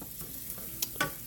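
Vegetables seasoned with salt and pepper softening in a frying pan, a low steady sizzle with a couple of brief scraping stirs and light clicks of a utensil, close and quiet with no talk.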